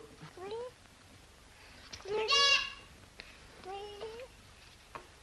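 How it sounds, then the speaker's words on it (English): A goat bleats several times in short, wavering, nasal cries spaced a second or two apart, fairly faint and close by. "No, it isn't a bow wow, darling. It's a goat."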